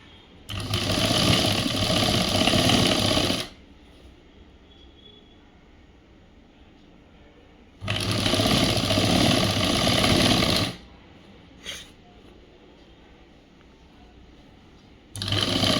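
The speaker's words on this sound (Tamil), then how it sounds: "அடி மடித்து தைக்கலாம்." A sewing machine stitches the folded hem of a school uniform shirt in two long, loud, fast-running bursts separated by quiet pauses, with a third run starting at the end.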